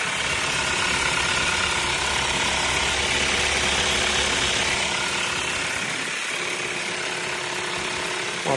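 A 2025 Hyundai Palisade with a 2.5 turbo petrol engine idles in a steady, close mechanical hum, broadband and even, with a faint rhythmic knock and a brief dip in the low rumble near the end.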